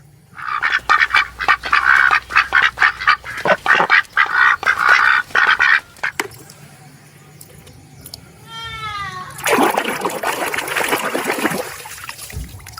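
A toy duck quacks in a fast run of loud, close quacks. A brief squeaky chirping follows, then a rougher burst near the end.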